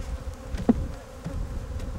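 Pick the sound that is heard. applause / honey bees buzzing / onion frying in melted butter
honey bees buzzing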